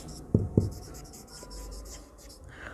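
Pen or marker writing by hand during a math lesson: two sharp taps followed by faint scratchy strokes, quiet and close.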